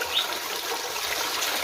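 Water pours steadily out of an aquarium filter that uses fern roots, making a soft, continuous gushing trickle at moderate distance with no voices.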